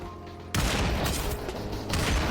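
Gunfire in the Population: One VR battle game: a quiet stretch, then a sudden loud burst of rapid shots with dense, rattling fire that keeps going.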